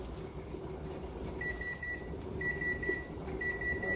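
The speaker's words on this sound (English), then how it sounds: "that's the 1 minute timer there" One-minute kitchen timer beeping in a home kitchen while black raspberry jelly cooks on the stove, three brief high beeps spaced about a second apart over a steady low hum.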